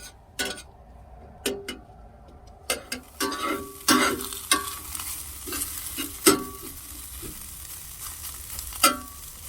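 Pizza topping frying and roasting in a pan over a campfire while camping in the Outback, with a steady sizzle broken by repeated clicks and scrapes of stirring, close by and fairly quiet.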